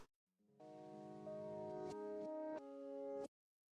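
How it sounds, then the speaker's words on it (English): Soft sustained tones that swell in rather than strike, layered piano notes fading up backward in a smooth, hazy texture, with slight steps as the chord changes. "The reverse piano is a very subtle texture."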